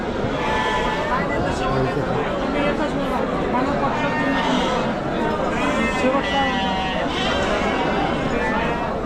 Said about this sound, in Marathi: इकडे पण मेंढ्या आहेत